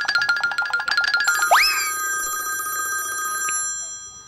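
A new-model telephone rings with rapid repeated bell-like tones, then a springy boing-like chime swoops up and a sustained bright tone rings on before cutting off, loud and close.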